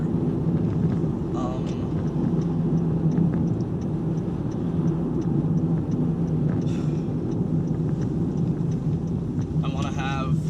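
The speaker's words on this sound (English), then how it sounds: "you're not getting all of this like car noise or whatever" Inside a moving car, a constant low road rumble and engine drone fill the cabin, loud and steady, with a person talking over it.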